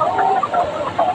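Layer hens on a poultry farm clucking steadily, several birds overlapping in a busy, continuous murmur of short calls, fairly close and moderately loud.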